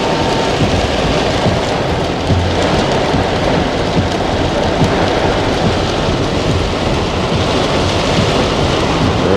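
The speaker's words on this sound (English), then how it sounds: "Rain, rain, rain." Steady, heavy rain shower falling over downtown Kingston, Jamaica, near Tivoli Gardens, a dense continuous hiss and patter that stays loud and even throughout with no voices.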